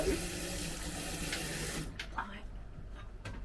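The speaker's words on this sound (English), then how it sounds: "And then I want warm water, not hot, but warm water." Warm water runs from a kitchen tap while Chinese-style batter for homemade crab sticks is prepared. The flow is a soft, quiet rush that stops after about two seconds.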